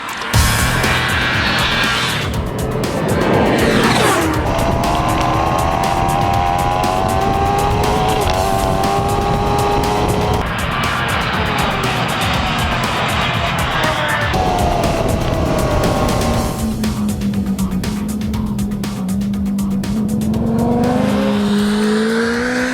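Supercharged 2015 Kawasaki Ninja H2 lapping a speedway, its engine repeatedly winding up through the gears in loud rising whines with brief drops at each shift, sustained and close, no talk.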